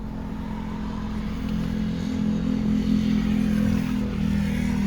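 A 2013 Dodge Avenger on a test drive after a throttle body cleaning, its engine droning steadily from inside the cabin, rising slightly as it picks up speed, with road rumble and no talking.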